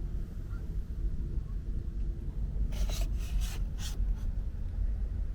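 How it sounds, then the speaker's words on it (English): A couch slides onto an 80/20 aluminum track bracket inside a Sprinter 4x4 van, giving a few short scraping rubs in quick succession against a steady low background hum. "So now I have it on the other end of the van, and I'm just sliding it onto the bracket."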